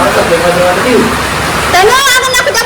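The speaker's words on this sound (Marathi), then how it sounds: "जाऊ नको इतका पाऊस झाला मित्रांनो बाहेर एकदम भारी झालं" Heavy rain falls outside, a loud, steady rushing hiss running the whole time, with a voice talking over it near the end.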